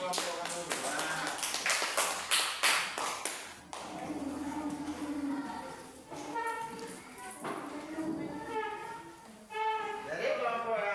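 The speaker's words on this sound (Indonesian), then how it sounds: "Tepuk tangan dulu untuk kelompok kanguru" A classroom audience claps for the kangaroo group: a quick burst of hand claps at the start that thins out, then a teacher's voice carries on over the quieter room.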